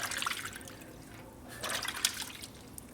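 A small part from a Harley FL shovelhead stroker big-bore motor is dipped into water, giving close, light splashing and dripping with a few brighter sloshes and no voices.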